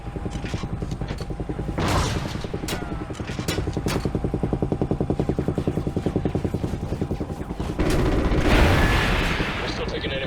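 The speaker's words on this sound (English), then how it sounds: "We're still taking enemy AA fire from behind the smokestacks." Enemy anti-aircraft fire from behind smokestacks in Call of Duty Ghosts: rapid, sustained rattling bursts of heavy gunfire with booming thuds, loud and continuous, swelling near the end over an engine-like drone.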